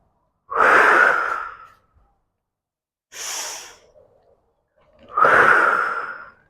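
Three strong, breathy exhales during a floor exercise, close and loud, each lasting about a second with silence between them and no talking.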